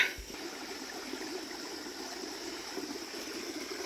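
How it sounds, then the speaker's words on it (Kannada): Water from a hillside stream flows steadily nearby, a soft continuous rushing and gurgling that runs throughout without talk, opening with a brief handling thump. "ಸಮೃದ್ಧವಾಗಿ ಹೋಗ್ತಾ ಇದೆ ನೀರು."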